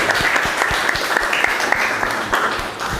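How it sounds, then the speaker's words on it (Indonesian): Classroom group applauding a presenting student group, loud close clapping with sharp individual hand claps over a continuous dense patter lasting the whole stretch. "tepuk tangan"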